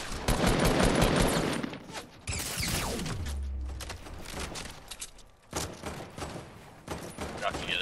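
Dense, rapid bursts of gunfire crackle through a video game shootout in a kill tournament match, loud and nearly continuous, with a sweeping whoosh midway and brief lulls before the firing resumes.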